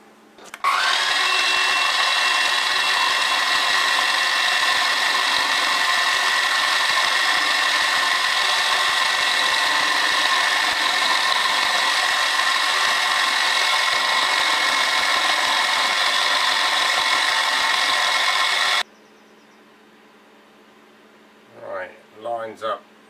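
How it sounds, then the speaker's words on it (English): A milling machine cuts a steel governor part for a model steam engine held in a vise, a loud steady whine that runs for about nineteen seconds and then stops abruptly, followed by a few brief spoken words. "So I'll just get this set up in the vise and we'll just mill that off to dimension."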